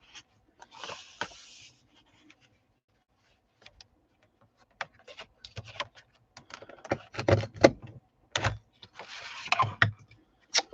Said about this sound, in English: I have not been very successful with always using these border punches, but I'm going to give it a go